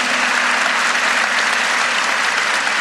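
Dense, steady applause from a large audience at a live Portuguese show about doctors and the Hippocratic Oath, loud and continuous throughout with no voices standing out.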